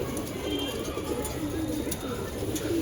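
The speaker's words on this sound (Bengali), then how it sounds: "এই যে অ্যালুমিনিয়াম কবুতর" Aluminium-breed pigeons coo steadily at close range in a loft, a continuous low bubbling murmur from several birds, with no talk.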